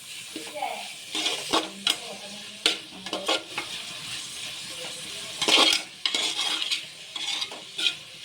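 Onions, green chili and garlic with salt frying in a pan: soft sizzling under repeated scraping and clinking strokes of a spoon stirring against the metal, close and intermittent.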